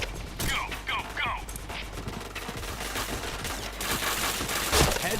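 Gunfire bursts rattle through a shooting video game, with quick clusters of shots and chirping effects, steady and fairly loud across the moment.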